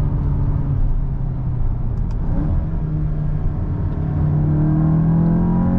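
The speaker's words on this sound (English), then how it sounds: "So I'll just let it go all the way into the red line." The engine of a 2023 Volkswagen Golf GTI climbs steadily toward the red line, a loud, continuous rising drone heard from inside the car with no talking.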